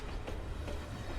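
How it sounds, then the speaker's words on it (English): A tram moving along its rails, a steady rumbling roll with a faint rhythmic clatter of wheels, loud and continuous. "The doors slammed shut, and the tram began to move"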